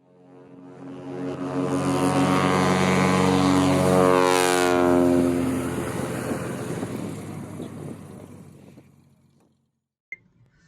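A German Airbus A400M propeller transport lands at night in Kabul: a loud, steady droning roar that swells, peaks midway, then fades away, followed by a brief click.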